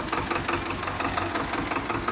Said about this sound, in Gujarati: આ શંકાભાઈ અને આ અમારા સિદ્ધરાજભાઈ ચડી ગયા છે ટ્રેક્ટરમાં.